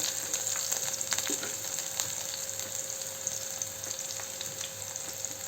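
Cumin and onions fry in hot oil in a pan, a soft, steady crackling sizzle heard close but fairly quiet, with light scattered pops and no voices.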